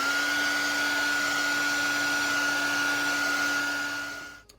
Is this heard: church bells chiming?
no